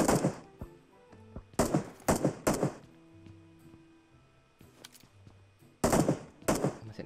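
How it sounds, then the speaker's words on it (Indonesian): Bursts of gunfire in a battle royale shooter: several loud broadband volleys, some rapid automatic strings, spaced apart over a low musical hum, with quieter gaps between clusters. "Masih nembak, masih nembak"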